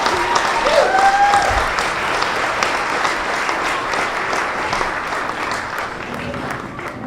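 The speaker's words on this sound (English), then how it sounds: "Another round of applause for Asantewa." A storytelling event audience applauds, broad sustained clapping from many people that holds steady throughout, with a brief voice heard near the start.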